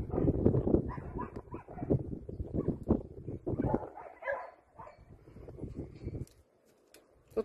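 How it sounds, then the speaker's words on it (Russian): Several dogs bark repeatedly and nervously from a rooftop vantage during a forest fire reaching homes in Russia's Irkutsk region, with loud close yaps and whimpers in bursts that fade to quieter, sparser barks toward the end. "Собаки лают, нервничают."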